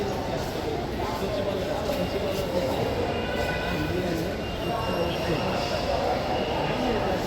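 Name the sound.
Dhaka metro rail train arriving at station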